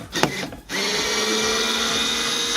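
Power screwdriver whirs steadily and loudly out of a brief clatter, backing out the screws holding a rear door speaker in a Mazda CX-7.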